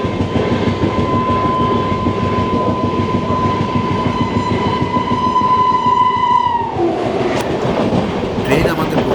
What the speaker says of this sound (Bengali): ওপাশ থেকে একটা ট্রেন আসছে ওপাশ থেকে একটা।